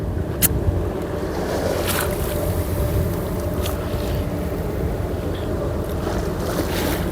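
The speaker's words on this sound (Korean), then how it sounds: "파도가 부딪히는 소리." Ocean water laps and splashes against the harbour at Busan port, a steady close wash under gusts of wind buffeting the microphone, with no voices.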